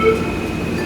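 An MRT train rumbles in a steady, dense roar with a faint high whine, close by and continuous, no voices.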